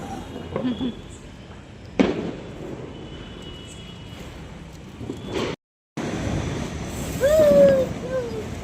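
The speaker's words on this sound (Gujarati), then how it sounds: "એ ફોડે ફટાકડા ને" A sharp firecracker bang cuts through background noise and nearby talking, with fainter pops around it, during Diwali night celebrations.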